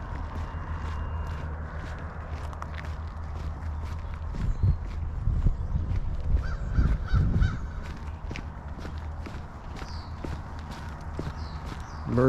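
Crows caw outdoors on a frosty morning beside a pond, with scattered calls in the background over steady footsteps and dripping water.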